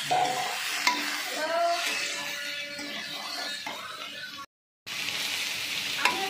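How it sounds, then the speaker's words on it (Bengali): Potatoes sprinkled with turmeric stirred and fried in oil in a pan, giving a soft continuous sizzle with occasional scraping stirs, close and moderate, briefly cutting out near the end. "আলুগুলোতে একটু হলুদের ছিটে দিয়ে দিলাম, দিয়ে আবার নাড়ানাড়ি করে নিচ্ছি"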